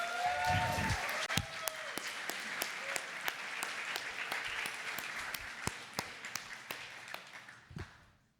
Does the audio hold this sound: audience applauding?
yes